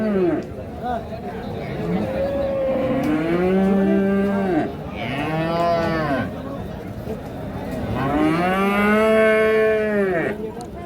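Crossbred Friesian bulls at a cattle market in Kaharol low repeatedly, long drawn-out moos rising and falling, loud and close, over market chatter and people talking.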